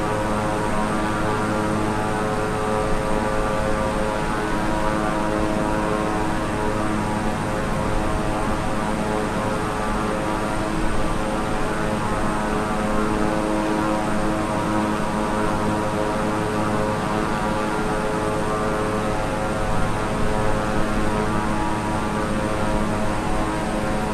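A Black Square B350i turboprop in Microsoft Flight Simulator 2020 drones steadily in cruise flight, a constant loud propeller and engine hum with layered tonal whine, unbroken throughout and with no voices.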